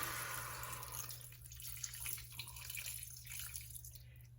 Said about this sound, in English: So what I'm going to do now is add in my broth.